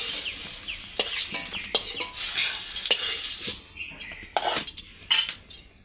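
Potatoes frying in oil in a pan for a spiced kakrol and potato dish, with light sizzling under repeated stirring and scraping clinks of a utensil against the pan, close and moderately loud.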